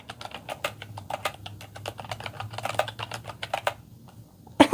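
Rapid clicky keystrokes on a ZeroWriter Ink open-source keyboard, a steady patter of sharp, close taps with a few brief pauses and a louder clack at the end.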